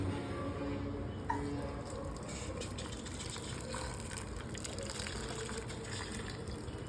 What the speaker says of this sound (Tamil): இப்போ இது எல்லாமே மூழ்கிற அளவுக்கு தண்ணி ஊற்றணும்.